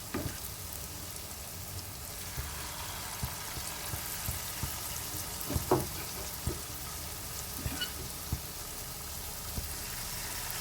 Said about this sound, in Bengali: চলো এই কটা বড়া ভাজা হোক আগে